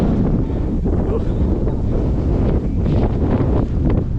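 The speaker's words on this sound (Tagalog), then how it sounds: "Lakas ng hangin mga ka-rides." Strong wind on the summit of Mt. Batulao buffets the microphone in loud, continuous roaring gusts with a low rumble throughout.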